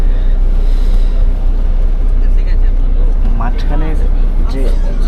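Steady low engine rumble and road drone fill the cabin of a Volvo 9600 intercity bus on the Kolkata to Siliguri route, loud and continuous, with a person speaking over it.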